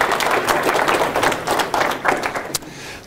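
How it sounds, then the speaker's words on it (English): An audience at a lecture bursts into steady, dense applause that stays loud for several seconds, then tapers off to a few scattered claps near the end. "Now you get to clap again and welcome our speaker, Dr. Stephen."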